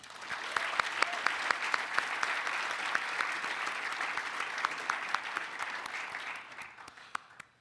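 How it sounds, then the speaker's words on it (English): Audience applause at a rowing crew's 75th anniversary celebration, a steady, dense patter of many hands clapping at moderate volume that fades near the end. "if we could have a quick round of applause for Nate"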